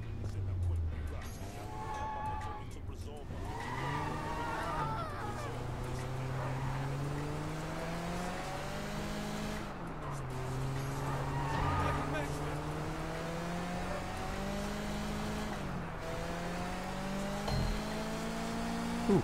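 A car engine in the video game Sleeping Dogs hums and revs steadily through the clip, shifting pitch as it accelerates and eases off. There are occasional brief tire noises, and a voice speaks over it at times.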